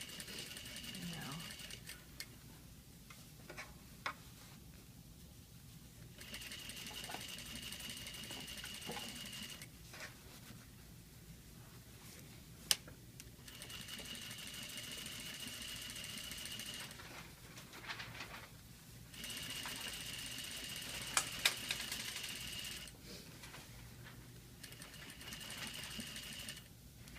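A sewing machine runs in steady stretches of fast, faint whirring stitching while sewing a zipper into a dress, stopping and restarting several times, with a person talking quietly in between.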